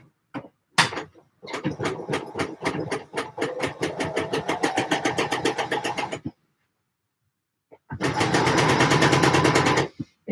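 Domestic sewing machine stitching in rapid bursts, two long runs separated by a short pause, close and loud with no talking.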